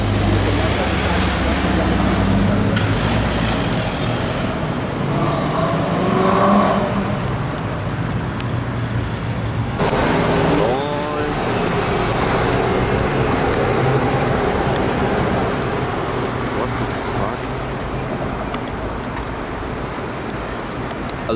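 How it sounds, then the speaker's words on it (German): Aston Martin Vantage GT8 sports car passing on a street in Munich: engine roar swells and fades as it drives by, followed by another rising surge of engine and road noise, with traffic and indistinct voices around. "Vantage GT8 von einem unserer eher kleineren Sammler hier in München"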